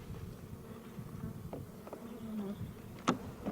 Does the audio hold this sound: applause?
no